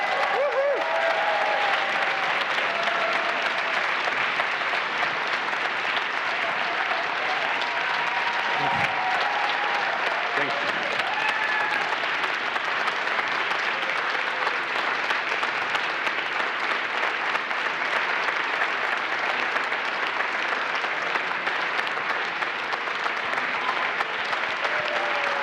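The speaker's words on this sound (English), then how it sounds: "So can I please get a very big round of applause for João?" Sustained applause from a forum audience, a dense steady wash of clapping filling the room throughout, with brief murmurs underneath.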